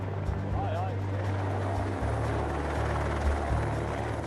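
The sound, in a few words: helicopter delivering supplies to a remote camp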